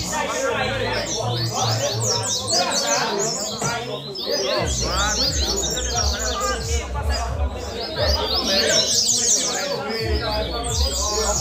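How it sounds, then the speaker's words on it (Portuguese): A coleiro songbird sings during a singing contest, repeated bright chirping phrases rising over someone talking and a murmuring crowd nearby. "Olha o passarinho aqui do amigo."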